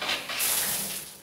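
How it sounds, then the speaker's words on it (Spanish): Water rushes from a newly installed single-lever mixer tap opened during a plumbing pressure test, a bright, steady hissing flow that swells quickly and holds, close and fairly loud, with no talking. "aquí vamos a abrir nuestro monomando para que vean la presión que tiene"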